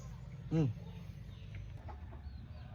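One short, close cluck or squawk from a chicken in a backyard setting, followed by quiet background hum.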